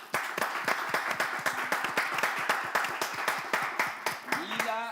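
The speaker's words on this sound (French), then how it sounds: "Je vais vous demander d'applaudir" An audience applauds steadily for a student candidate at a school event from Togo, with dense, even clapping throughout and a few voices rising near the end.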